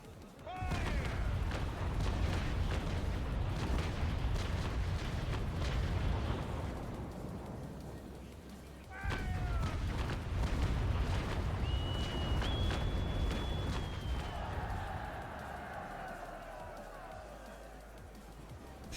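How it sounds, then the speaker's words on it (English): Volleys of 9-pounder ship cannons booming in Naval Action, two heavy bursts of rolling broadside fire about nine seconds apart, loud and rumbling, with some faint voice under the din. "wait for the lower deck to be nearly ready, and then we'll fire off the 9-pounders"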